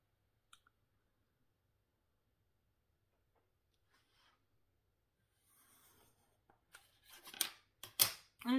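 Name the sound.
cutting paper card with scissors or paper trimmer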